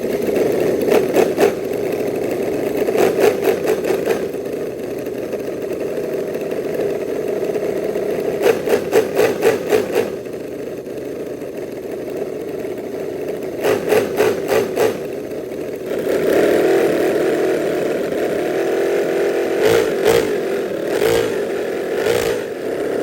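A running quarter-scale V8 model engine holds a steady, mid-pitched idle hum, with its throttle repeatedly blipped into short, rapid bursts of revving that pulse over the drone.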